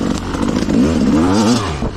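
An enduro motorcycle accelerates under throttle with the rider standing on the footpegs, a close, loud engine note rising and wavering in pitch over about two seconds, with rough clatter underneath.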